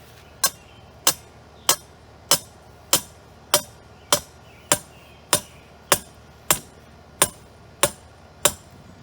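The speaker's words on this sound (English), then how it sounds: "you can use a hammer or a sledgehammer to drive it down further" Fourteen sharp metallic hammer blows ring out at a steady, even pace, each strike driving a rebar stake into the ground with a short ringing decay.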